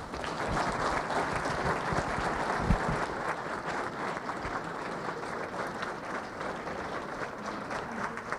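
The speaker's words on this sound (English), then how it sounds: "Let's give them a round of applause, please" A candidate forum audience gives a round of applause after a speaker finishes, steady dense clapping filling the room for the whole stretch with no voices over it.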